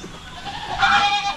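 A full-blood Boer goat lets out a single drawn-out bleat that swells and fades over about a second, moderately close, against faint farmyard background.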